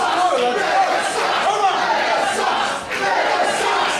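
A women's wrestling crowd in Worcester cheers and shouts in a dense, continuous roar, with chanting voices swelling and dipping around the arena.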